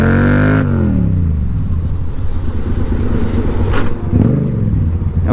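A motorcycle rolling into a stoppie on the street, the engine revving sharply then dropping to a loud, rough rumbling idle with clattering mechanical noise, close and continuous.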